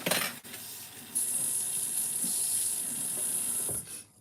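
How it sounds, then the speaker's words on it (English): A kitchen tap runs steadily while a metal spoon is rinsed during dinner prep, a close hissing stream of water with a few clinks, starting after a short pause and stopping abruptly near the end. "Let's rinse one of these spoons off."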